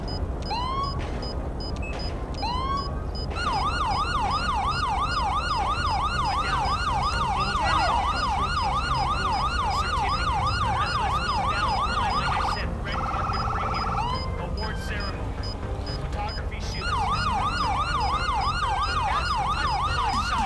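A police car siren in the video game GTA V wails continuously at close range, cycling through rising and falling patterns, briefly shifting to a faster yelp before returning to the steady wail, with traffic noise underneath.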